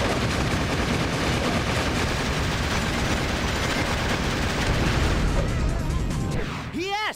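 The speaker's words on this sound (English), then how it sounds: "Sections of the roadway are being destroyed by those black creatures' bombs." Rapid, dense explosions from bombs blasting apart sections of roadway in the Shadow the Hedgehog video game, a continuous loud barrage of blasts and gunfire-like bursts, with a voice rising over the din near the end.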